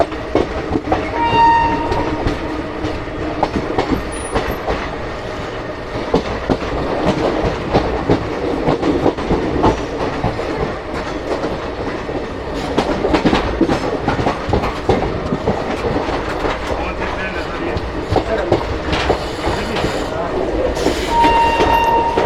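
The Shramjeevi Express, a passenger train, rolls along the rails near a curve with steady clickety-clack, brief horn blasts near the start and end and some wheel squeal, loud and close, with voices faintly underneath.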